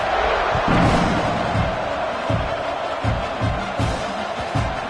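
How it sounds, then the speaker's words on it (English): A football stadium crowd at a college game against Oklahoma keeps up a loud, steady roar and buzz after a score, with scattered thumps and rising swells throughout. "this crowd is buzzing after that last score"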